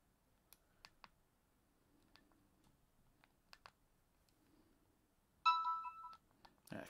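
A Nokia 3650 mobile phone plays a short ringtone melody near the end, following a few faint key clicks and soft ticks in an otherwise quiet room.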